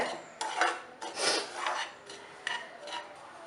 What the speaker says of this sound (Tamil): ஒரு ரெண்டு நிமிஷம் இந்த நெய்யோடு நல்லா கலந்து விடுங்க